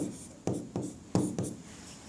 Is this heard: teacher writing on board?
yes